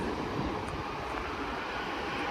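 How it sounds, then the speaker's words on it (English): A plane comes in to land at Manchester Airport, its engines a continuous broad rumbling roar at moderate distance, steady and unbroken with no one speaking. "Oh, I'm hearing something. Yep, I think something's landing."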